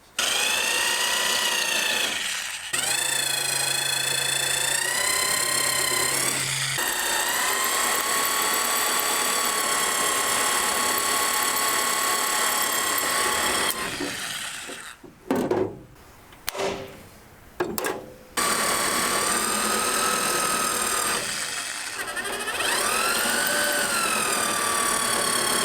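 A power drill bores out spot welds on a Nissan Skyline frame rail, whining loudly and steadily with rising and falling pitch, then stopping in several short bursts before resuming.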